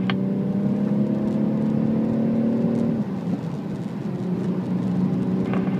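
Race car engine held at hard throttle on the VIR circuit, a loud steady droning whine that dips briefly near the middle and then carries on strong, close to the car.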